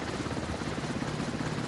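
A helicopter in the naval combat game Warships Mobile 2 gives off a continuous loud rotor chop with dense engine whine, heard alone for a brief moment.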